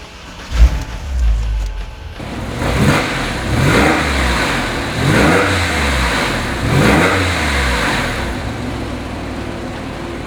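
A 2004 Porsche 911 C4S Cabriolet flat-six cranks and catches close by, then settles into a strong idle broken by several rhythmic, swelling revs, with no one speaking.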